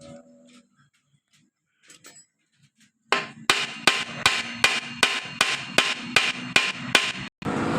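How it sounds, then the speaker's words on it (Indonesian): Hammer tapping on a stuck oil filter bolt of a Mio scooter: after faint handling noises, about a dozen sharp metallic knocks come in a steady rhythm, close and loud. "Coba kita ketuk lagi untuk membuka di baut ini."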